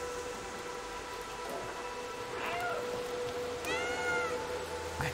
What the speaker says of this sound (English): I can't stop meowing.